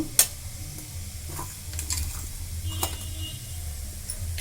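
Mustard seeds, cumin and a little turmeric sizzling in hot oil for spinach dal, a low steady crackle with occasional sharp pops and a light scrape near the start.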